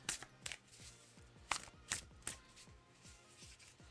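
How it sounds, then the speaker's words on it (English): Tarot cards being shuffled by hand at close range, a series of quick riffling bursts and soft slaps arriving in an uneven rhythm, fairly quiet with no talking. "So let me get these shuffled."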